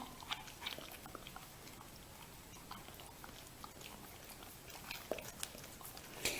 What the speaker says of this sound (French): le chien, s'il croque le glaçon, il va bien voir que ça gèle ses dents